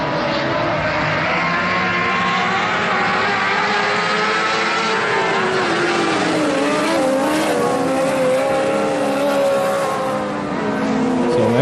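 TUSA ModLites race cars roar around a dirt oval in a qualifying race, a loud continuous engine din with rising and falling revs as the field circles nearby.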